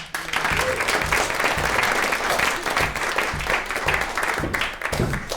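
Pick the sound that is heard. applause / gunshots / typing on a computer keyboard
applause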